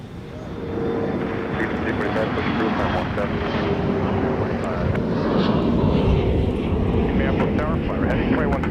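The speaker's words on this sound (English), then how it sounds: "So all that extra noise is coming from behind us. That's a Southwest flight 2185 headed to Chicago Midway" Southwest airliner passing behind the observers at Minneapolis–Saint Paul airport, a loud, steady engine roar that builds and holds throughout while people talk over it.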